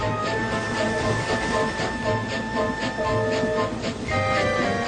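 A small steam engine labours up a steep climb, its wheels slipping on the rails. Steady, dense rumble with continuous chuffing and mechanical clatter that holds at a strong level throughout, with no talk.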